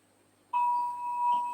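A yoga practice timer sounds a single clear electronic chime, a sharp bright tone that starts suddenly and rings on steadily in a quiet room, with a faint second note near the end.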